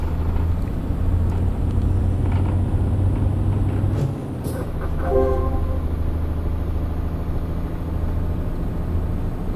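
A truck in Euro Truck Simulator 2 rolling along a road, a steady low engine drone that changes tone midway as it shifts gear, with a short tonal sound, continuous and close.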